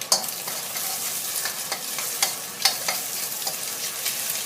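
Egg is stir-fried in a pan for fried rice with pla ra, a close steady sizzle broken by repeated scraping and tapping of the spatula, with no talking.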